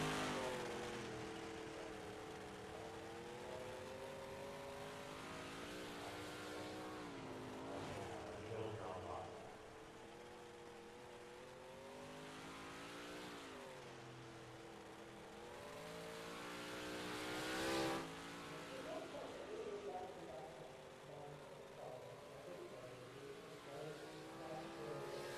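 Open 358 Modified race cars qualifying at Limaland speedway produce a droning engine roar that swells and fades as they circle the track, heard under a commentator talking.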